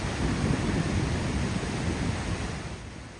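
Rhine Falls at Schaffhausen, Switzerland, heard from a tourist boat near the base of the waterfall as a loud, continuous roar of crashing water that eases slightly toward the end.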